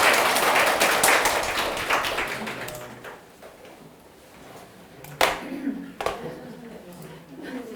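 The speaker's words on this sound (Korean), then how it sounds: "대표님 박수 한번 다시 부탁드리겠습니다." Audience applause at an academy opening info session, a dense broadband clapping that fades over the first three seconds, followed by a few sharp isolated claps or knocks in a quiet room.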